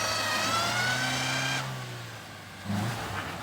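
An off-road vehicle's engine revs hard as it climbs out of a muddy farm field, a loud rising whine that drops off abruptly, then a short second burst of throttle.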